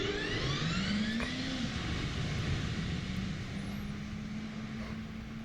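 An F-15E's jet fuel starter spins up in DCS World, a steady mechanical whine with rising tonal sweeps over a low turbine rumble, holding close and constant throughout.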